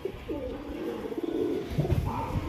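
Pet pigeons of Andhra and Madras high-flyer breeds kept in a home loft coo in low, rolling warbles, close and steady over faint background noise.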